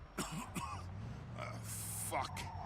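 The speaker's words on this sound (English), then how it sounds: "Every time I cough, it feels like I'm being stabbed in the chest." A man with broken ribs coughs and clears his throat in short, rough bursts in the video game Mafia 2, fairly close and quiet amid faint background sound.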